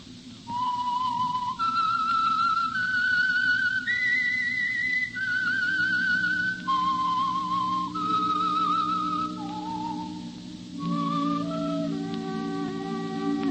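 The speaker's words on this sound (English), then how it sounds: "That whistle is your signal for the Signal Oil program, The Whistler" A lone whistler performs the eerie, wandering theme melody of The Whistler radio drama, clear sustained notes stepping up and down over a low orchestral bed, with no talking.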